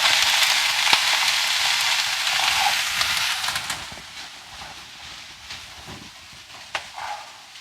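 Cabbage sizzling and frying in a hot pan for moo goo gai pan, a continuous hiss with scattered clicks and taps of utensils, loud and close throughout.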